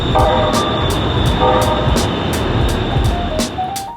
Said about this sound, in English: electric trams zooming on the city streets